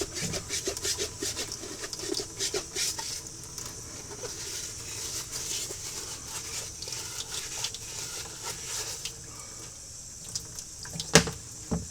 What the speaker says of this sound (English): I'm going to go ahead and scrub the footbed.